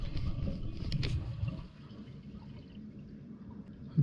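A Niagara Stealth toilet tank refills with water after installation, a steady low rushing hiss with gentle trickling that starts fuller and settles into a softer, even flow, close by and with no voices.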